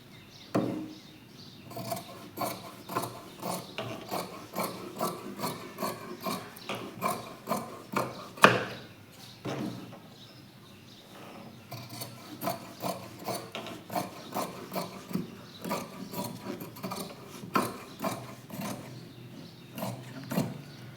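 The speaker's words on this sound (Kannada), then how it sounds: "1 ಇಂಚ್ ಅಳತೆಗೆ ನಾನು ಕಟ್ ಮಾಡ್ಕೊಂಡಿದ್ದೀನಿ" Scissors cutting plain blouse fabric into 1-inch strips for piping, close rhythmic crunchy snips in quick runs with a short pause midway, fairly quiet and without talk.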